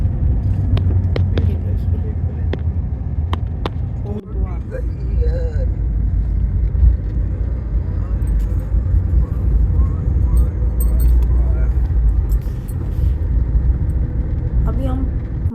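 Car engine and road rumble inside a vehicle travelling through hilly country toward Jim Corbett Park in Uttarakhand, a steady loud drone throughout with a few sharp knocks early on and a person talking over it.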